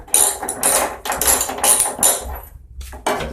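Clicking, clattering bursts from a 3/4 inch socket ratchet working a part loose on a vintage Sears Briggs & Stratton 92908 engine, several close strokes with brief pauses between.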